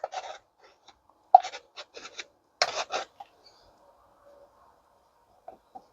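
Mixed resin is scraped off a stick in a few short, close rasping strokes separated by pauses, then long quiet with faint small taps.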